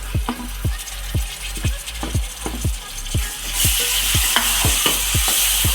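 Tomato pieces and green chillies sizzle and fry in a pan for a chicken curry, with a steady hiss broken by regular stirring scrapes about twice a second. The sizzle grows louder and brighter toward the end, and no one speaks.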